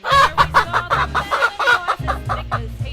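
A chicken clucks in a quick, rhythmic run of about a dozen sharp, close clucks over roughly three seconds, heard alone over a faint low background tone.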